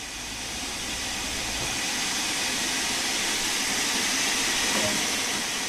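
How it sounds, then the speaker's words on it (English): A Stanier 8F steam locomotive in Train Sim World 3 releases steam through its open cylinder cocks, a loud, steady broadband hiss that rises slightly and holds constant for several seconds. "Open the cylinder cocks to remove any water from cylinders after it has been left standing."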